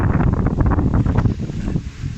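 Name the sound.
wind blowing on microphone at lake port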